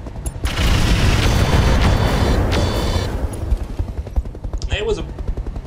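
Mech weapons in RogueTech fire in a heavy, booming barrage for several seconds, followed by a rattling string of smaller impacts that fades, with a voice speaking near the end.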